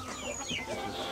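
Farm chickens raised with space and organic feed cluck in short, close bursts, several quick calls over about a second.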